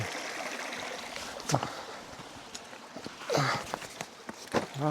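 Water from a mountain stream near the Cime de l'Autaret rushes in a steady, moderately distant wash, broken by a few nearby footsteps and light knocks.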